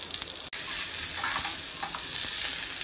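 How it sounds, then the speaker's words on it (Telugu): Green chili pieces fry in hot oil while a spoon stirs them back and forth, giving a steady close sizzle with light scraping strokes and one brief clack near the start. "కొంచెం స్పూన్ తోటి వేగనిచ్చేలాగా అటు ఇటు తిప్పేద్దాము."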